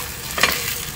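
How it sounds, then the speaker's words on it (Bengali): Food frying in a pan, a brief close sizzle with a single stirring scrape in the middle, no voices. "আমি কিন্তু ভাজা শুরু করে দিলাম"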